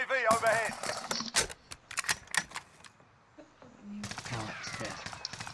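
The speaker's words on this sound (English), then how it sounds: "they're being shot by someone else now" Gunfire in the video game Warzone crackles in sharp bursts and short volleys, moderately loud and mixed with players talking over the action.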